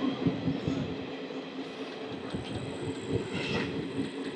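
Circar Express 17644 passenger train running at speed, a steady heavy rumble with rhythmic wheel thuds and faint squeal, heard from inside the coach with no talk.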